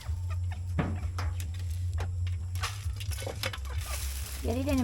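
Chickens cluck and chatter close by over a steady low hum, with scattered bird calls and some background talk.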